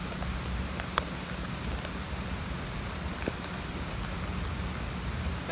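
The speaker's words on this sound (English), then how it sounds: "Pouring down with rain now, so quickly gonna putt this one up," Heavy rain pours down on a golf course in Nicaragua as a dense, steady hiss of drops, with occasional sharper spatters and no talking.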